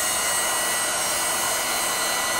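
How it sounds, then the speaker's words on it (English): A leaf blower pushing yard leaves toward a pile, a constant loud whooshing roar that holds steady throughout with no pauses and no talking. "Take the blower, blow the leaves towards this pile."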